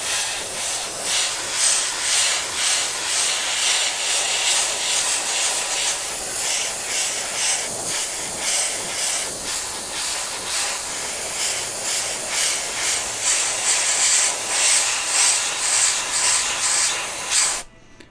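Aerosol spray paint hissing onto parts of a Tamiya Volvo FH12 1/14 scale RC truck kit, one close, steady continuous burst lasting about seventeen seconds before cutting off abruptly, with no talking.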